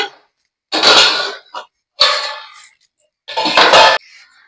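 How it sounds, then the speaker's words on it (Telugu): A wok is set down on a kitchen stove for cooking, giving a few loud metallic clanks and scrapes in bursts separated by short silences. "బాండీ అయితే పెడుతున్నానండి"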